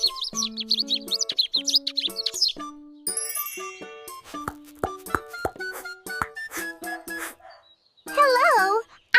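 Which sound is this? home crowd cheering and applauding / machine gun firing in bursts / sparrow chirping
sparrow chirping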